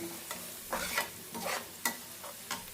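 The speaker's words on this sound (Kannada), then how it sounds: "ಸ್ವಲ್ಪ ಸ್ವಲ್ಪ ಖಾರ ಪುಡಿ ಹಾಕ್ಕೊತಾ ಇದ್ದೀನಿ ಅದು ಕೂಡ ಚೆನ್ನಾಗಿ ಮಿಕ್ಸ್ ಮಾಡ್ಕೊಳ್ಳೋಣ" Chili powder being stirred into a frying spice mixture with peanuts in a pan, a soft background sizzle broken by several distinct scraping stirs at uneven intervals.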